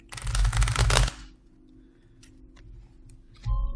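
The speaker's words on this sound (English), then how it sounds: "Let's give that a shuffle." A deck of tarot cards riffled and shuffled by hand in a brisk burst of crisp flutter, then a quieter stretch of faint ticks before a short thump of handling at the end.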